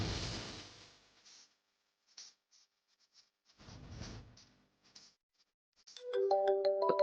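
A mobile phone ringtone starts up near the end as a bright, repeating electronic melody, loud and close, after quiet household sounds and a brief stretch of rustling.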